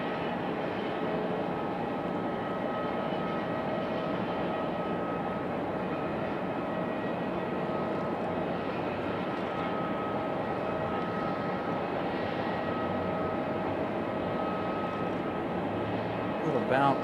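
Delta airliner touching down at an airport, a sustained jet roar with a slight bounce, steady and fairly loud throughout.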